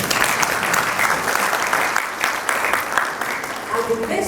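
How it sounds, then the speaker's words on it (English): Alumni audience at a university pharmacy school's 50th anniversary gala dinner clapping for themselves, a dense, steady round of applause filling the hall throughout. "Can you clap for yourself?"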